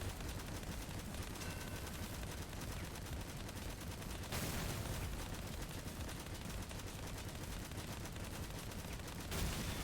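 Dense, continuous gunfire from goblin weapons mounted on a Crossout combat vehicle, a rapid wall of overlapping shots that barely lets up for the whole stretch, with a brief heavier burst near the end.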